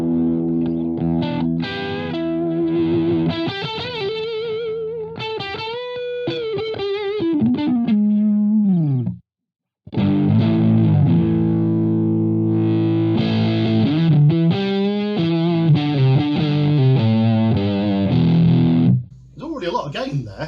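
Distorted electric guitar with its volume knob rolled off, played through a Twinote Boogie amp, playing chords and riffs, with a brief silent gap midway before the heavy, saturated tone resumes.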